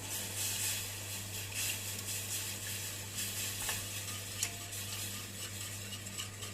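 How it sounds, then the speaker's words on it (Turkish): Milk is whisked into roasted flour for a creamy mushroom soup, a quiet, continuous scraping and swishing of the whisk in the pot with faint sizzle and a steady low hum, no voices. "Bunu ilave ediyorum arkadaşlar. Bir güzel çırpıyorum."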